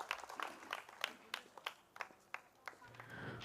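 Seminar audience at a valedictory function applauding a speaker. The clapping is faint and scattered, with sparse distinct claps and a few louder hits, fading out near the end.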